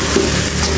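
Dried loitta fish and jackfruit seed mash being stir-fried in a pan, a close, continuous sizzle with soft stirring scrapes and no voices.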